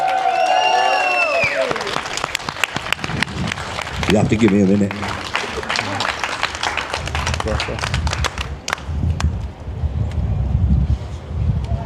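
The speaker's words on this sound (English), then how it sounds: "I think she deserves a louder cheering and applause than that." At a parents' protest in Oldham, a crowd breaks into cheering and applause, a loud, continuous outdoor roar of clapping with wind buffeting the microphone, following a woman's spoken words at the start.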